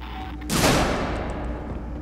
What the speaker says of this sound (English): Alright, she starts shooting at me then, that's cool.